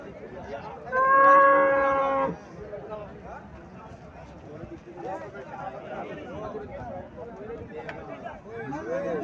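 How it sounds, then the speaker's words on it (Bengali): A Friesian dairy cow gives one loud, drawn-out moo of about a second close by, then farm ambience continues as people chatter in the background. "এখানে আরো একটা গাভি দেখা যাচ্ছে"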